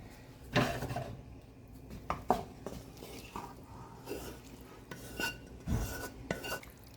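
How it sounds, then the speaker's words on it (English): Seasoned vegetables tipped into a pot of turkey chili, heard as scattered scrapes, clinks of a spoon against the pot and soft tumbling thuds, close but fairly quiet. "Now I think it's time for us to add our vegetables."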